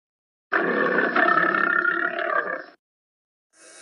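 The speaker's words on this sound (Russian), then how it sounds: "Лев рычит." A lion gives one long, loud, rough roar lasting about two seconds, close and alone, then stops; a short burst of another sound starts just before the end.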